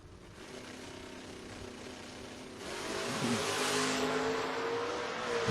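Drag racing door cars, a Vega and a Berry Hill, New Jersey-based Mustang, launch down the strip. A muffled engine drone builds into a louder, broadband roar of acceleration, heard from a distance.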